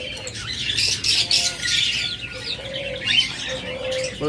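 Caged pet birds, diamond doves and budgerigars, fill the air with constant close chirping and twittering, joined by soft cooing and occasional squawks, with no voices.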